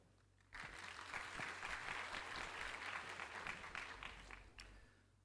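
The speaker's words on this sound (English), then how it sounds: "please join me in giving a warm round of applause to Professor Stephenson" Conference audience applauds a professor, a dense, steady burst of many hands clapping that starts abruptly, holds strong for several seconds and tapers slightly at the end, with no talk over it.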